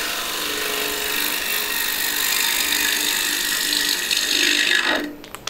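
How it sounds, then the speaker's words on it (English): Power sanding of an ambrosia maple wood platter up to 320 grit, a steady close whirring scrub that runs continuously for about five seconds before cutting off, with no talking. "I'm going to sand this again like I did the backside to 320 grit."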